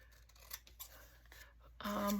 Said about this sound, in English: grab my big scissors